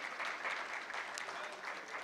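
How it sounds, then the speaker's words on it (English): An audience at a microfinance panel event gives a soft, steady burst of applause, faint and distant, lasting the whole moment without pause. "give a round of applause to our panel"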